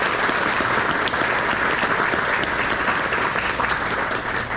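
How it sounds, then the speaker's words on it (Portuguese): A church congregation applauds steadily and loudly throughout, a dense wash of clapping at a religious testimony gathering. "Vamos aplaudir a palavra de Deus."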